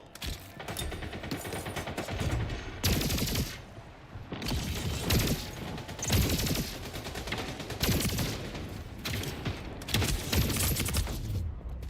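Rapid bursts of shotgun fire from the Splitgate 2 game, with several loud blasts clustered in repeated volleys across the stretch and short gaps between them.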